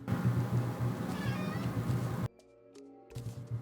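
A cat meows once or twice over loud, dense game music during a Terraria Calamity Infernum boss run, and the music then cuts out.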